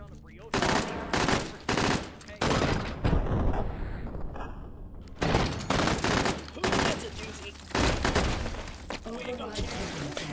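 Sustained automatic gunfire in the VR shooter H3VR, a trigger held down to empty a magazine, coming in several loud dense bursts separated by short pauses, with some shattering impacts.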